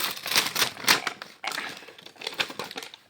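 A taped gift package is opened by hand, tape and wrapping paper tearing and crinkling in several close, sharp bursts with brief pauses between them.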